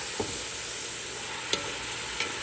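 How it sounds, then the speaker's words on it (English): Onions and yellow peppers fry over high heat at an outdoor camp, giving a steady close sizzle with a few faint scrapes from stirring in the pan and no talking. "Go ahead and add the onions, our yellow peppers."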